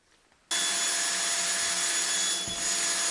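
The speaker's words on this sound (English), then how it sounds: "So, is this the right drill bit?" A power drill runs loud and steady, starting abruptly after a brief quiet moment and holding a continuous high whine for the rest of the clip, with a slight dip near the end, while drilling into a dishwasher panel during installation.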